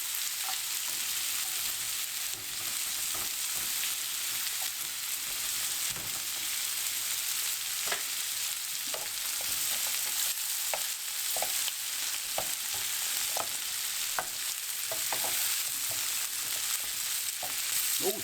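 Brussels sprouts shallow frying with bacon and butter in a pan, a steady close hiss and sizzle throughout, broken by small pops and crackles, with no voices.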